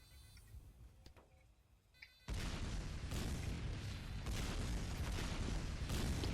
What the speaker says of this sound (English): See, his rockets are passing through those guys.